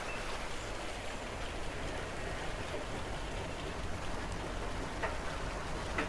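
Steady rain falling outdoors near nesting boxes, a soft continuous patter and hiss at low level with occasional faint drips, no voices.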